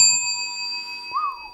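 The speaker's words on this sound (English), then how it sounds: "That is that is a professional bell right there" A single bright bell ding strikes once and rings on with a clear, sustained metallic tone that slowly fades, heard alone in a quiet room.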